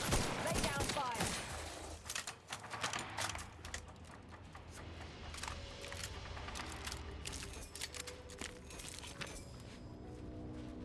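Gunfire in The Outer Worlds 2, a dense spread of rapid cracking shots and clatter running through the whole stretch, fairly faint in the mix with scattered footstep-like thuds and no talking.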